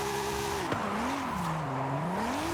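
A race car with a racing 3-liter engine in Forza Horizon 5 revs with rising and falling engine pitch, with a sharp tire squeal partway through, loud and continuous without speech.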